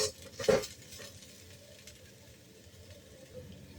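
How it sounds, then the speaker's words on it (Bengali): Oil sizzles and crackles as poppy seeds fry in a pan with turmeric, with a brief louder stirring scrape near the start, then settles into a steady, soft frying hiss. "এই দেখুন পোস্ত ভাজা আমার হয়ে গেছে"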